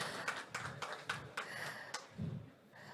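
Audience applause at a Jaksa Menyapa dialogue event with the Attorney General and the RRI director: fairly faint, scattered clapping with distinct individual claps, thinning out toward the end.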